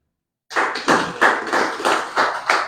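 A small audience clapping at a Portuguese-language event, starting abruptly after silence with close, uneven bursts of hand claps in a loose rhythm, loud and near.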